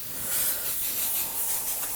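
An airbrush sprays paint onto a biomechanical skull in steady passes, giving a continuous soft, airy hiss that stays close and even for the whole stretch, with no talk over it.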